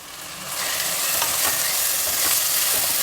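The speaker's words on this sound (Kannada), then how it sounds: "ಒಗ್ಗರಣೆಯಲ್ಲಿ ಅಕ್ಕಿ ಹೆಸರು ಬೇಳೆ ಎರಡನ್ನು ತೊಳೆದಿಟ್ಟಿದ್ದು ಇದನ್ನು ಹುರಿಬೇಕು" Steady sizzling and crackling of rice and split moong dal roasting in a hot oil tempering for pongal, with faint stirring scrapes throughout; close and continuous, no talking.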